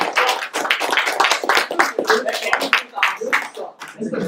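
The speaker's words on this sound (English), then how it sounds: "That's the first round of applause that anyone's got today" A small crowd at a gaming convention panel breaks into applause, close and loud, with distinct individual claps forming an irregular burst that thins toward the end, while people talk over it.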